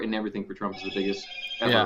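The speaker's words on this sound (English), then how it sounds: "That's my phone." A mobile phone ringtone rings under continuous conversation between speakers, a sustained tonal ring that carries through the middle of the talk.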